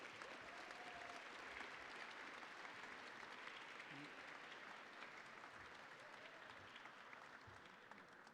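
Audience at an anniversary gala for a liver foundation breaks into sustained applause, a dense, even wash of many hands clapping that holds steady for several seconds in a large room before easing slightly toward the end.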